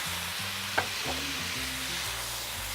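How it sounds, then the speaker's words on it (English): Rice wine vinegar hits a hot stir-fry pan and deglazes it with a steady, close hiss and sizzle that runs throughout, with faint tonal sounds underneath and no talking. "this is rice wine vinegar, and you can hear it sort of deglazing the pan underneath"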